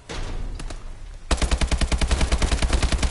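Rapid automatic gunfire from a gun in the video game Advanced Warfare, a steady burst of loud, evenly spaced shots following a brief quieter stretch with a few isolated pops.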